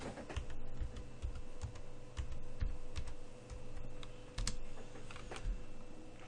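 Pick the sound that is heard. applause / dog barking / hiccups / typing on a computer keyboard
typing on a computer keyboard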